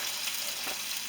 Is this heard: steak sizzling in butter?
yes